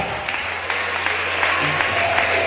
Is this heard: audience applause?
yes